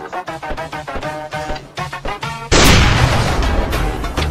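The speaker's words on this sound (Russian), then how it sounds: "Там стреляют." Gunfire in the survival video game DayZ erupts halfway through as a loud, dense burst of shots and booms that continues to the end, following a stretch of voices.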